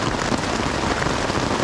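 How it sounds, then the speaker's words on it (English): Heavy rain falling on a tent at a lakeside campsite, a dense, steady patter and hiss of drops drumming close by without pause, with no voices. "So the rain may have taken a turn for the worst."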